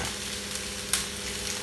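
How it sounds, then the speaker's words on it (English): Tomatoes, onions and peppers sizzle in hot olive oil for a roasted pepper and tomato soup, a steady close frying hiss with one brief sharp clatter partway through, no voices. "in with your olive oil, and then in with your tomatoes and your onions and your peppers."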